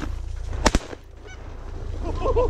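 Geese on a river honk in a quick pair of loud calls, followed by fainter, scattered honks and cackles from a flock further off against a low rumbling background.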